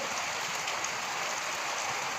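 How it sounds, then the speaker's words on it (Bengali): Rain falls in a steady, even hiss with no break, a soft constant wash of drops on outdoor surfaces, moderately quiet and heard alone without speech. "খুবই আনন্দ লাগছে মানে বৃষ্টি হচ্ছে বৃষ্টি হচ্ছে বৃষ্টি হচ্ছে"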